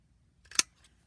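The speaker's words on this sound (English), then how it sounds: "I'm going to take a 1-inch circle punch. And I'm just going to cut a little tab here" A 1-inch circle punch snaps once through a paper tab for a gift card holder, a single short crisp click-crunch that stands alone in a quiet room.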